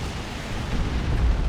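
Rocket launcher explosions from Commando units in the Warhammer 40,000: Dawn of War 2 video game, a steady rumbling roar of battle blasts that swells slightly toward the end, with no talk.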